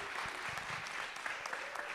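Audience applause at a startup pitching competition, a steady wash of many hands clapping, fairly distant and even across the whole stretch, with no talk over it.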